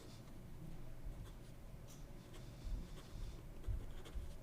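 Fountain pen nib writing in reverse across paper, a faint, close, dry scratching that keeps going with small irregular strokes and light taps, no voices.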